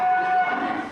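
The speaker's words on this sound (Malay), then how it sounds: "ini satu ekor sapi limosin super ya" A young Limousin bull at a livestock market lets out a single sustained moo, fairly close and clear, lasting under a second.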